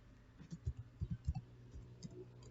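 A short burst of computer keyboard typing as a command is entered, about a dozen soft, close clicks in an uneven rhythm, quiet and alone.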